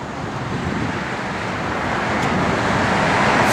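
A 1970 Chevrolet Camaro SS with a Muncie 4-speed on the road, a broad steady roar of engine and road noise that swells slightly louder toward the end, with no voices.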